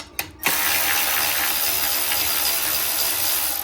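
Rapid ratchet clicking as a socket wrench backs out 10mm bolts from the front fender bracket of a Yamaha Warrior ATV, a short burst then steady continuous ratcheting, close and loud.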